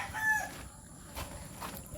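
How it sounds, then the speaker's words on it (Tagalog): Backyard chickens cluck faintly at a distance beside an herb garden, with a brief high fowl call near the start and soft intermittent sounds afterward, quiet and without any talking. "may mga manok yung bayaw ko dito pinalagay sa akin"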